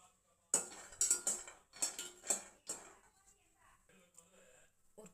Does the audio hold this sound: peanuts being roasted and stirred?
yes